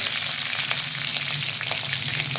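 Green chillies, curry leaves and asafoetida crackle and hiss in hot oil, a dense, even sizzle with small popping bursts throughout and no voices.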